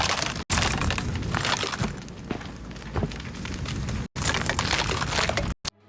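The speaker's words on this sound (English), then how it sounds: "Broken glass triggers a loud sound that enemies can hear from far away." Glass breaks in a Minecraft horror-trap build, producing loud crackling and crunching shatter noise that runs almost continuously, broken by a few abrupt silent cuts, with no talking.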